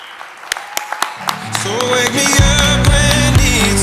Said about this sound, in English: everybody to stand up and give her a round of applause